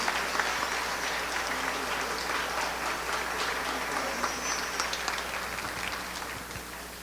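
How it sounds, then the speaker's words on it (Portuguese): Steady, sustained applause from a large church congregation indoors, dense clapping continuing without pause throughout. "eu peço para a igreja uma salva de palmas ao nosso querido irmão"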